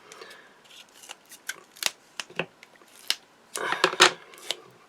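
Cheap scissors snip through a sticky foam craft pad indoors, a run of close, crisp irregular cuts and rustles with a denser burst of snipping near the end, with no talk.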